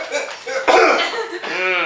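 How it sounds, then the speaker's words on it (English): A single sharp cough bursts out in the middle, with voices and rustling around it. "now turn your head and cough"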